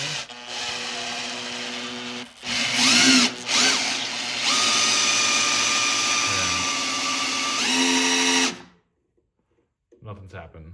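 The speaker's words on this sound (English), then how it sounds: "I just had the drill on here and I was turning this over" A power drill whirs steadily for several seconds, turning over a Toyota FJ40's 2F engine with a very stiff oil pump, pitch shifting under load, then stops abruptly, followed by a brief bit of talking.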